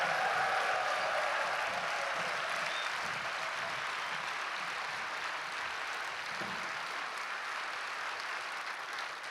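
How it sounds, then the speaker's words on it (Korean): Warm applause from a large congregation at a church thanksgiving evening service, a steady, dense wash of clapping that holds at an even level throughout, with no talk over it. "뜨거운 박수로 격려해 주세요"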